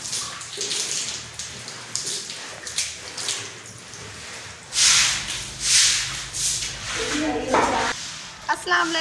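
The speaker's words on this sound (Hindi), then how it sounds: "अभी मैं पानी भर के आता हूँ" Water rushes steadily into a container, a continuous hissing pour with louder splashing surges near the end.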